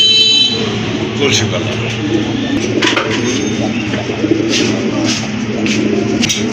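Pigeons kept for sale coo in a steady, close chorus under a constant background hum, while someone talks over them.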